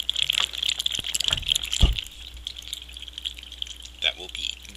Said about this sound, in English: Yay, it's bubbling over.